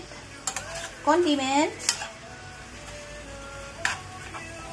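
Vegetables with onions, garlic and soy sauce fry in a home kitchen pan, a steady sizzle under scraping and stirring with a few utensil clinks, while someone talks briefly over it.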